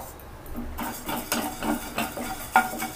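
Coriander seeds dry-roasting in a pan on a stove, rattling and scraping as a spoon stirs them in a few quick strokes, close with a faint hiss beneath.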